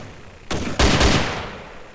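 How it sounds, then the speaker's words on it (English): Gunfire in the video game DayZ: two or three loud sharp shots in quick succession, the last ringing out and fading. "Oh, I heard a gunshot."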